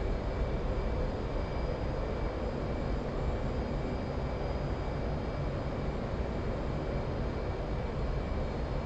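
An airplane flying in a combat flight simulator game gives a steady, unbroken engine drone with a dense roar that stays at one level throughout, with no voices.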